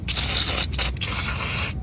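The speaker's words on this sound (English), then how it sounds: "at least I can spray a little bit right around" Cleaner sprays onto a motorcycle in close, hissing bursts, with two short breaks between blasts and a fan humming underneath.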